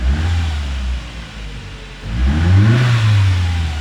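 A Ford EcoSport engine with a Zetec motor idles up close, dips briefly, then is revved once in a smooth rise and fall.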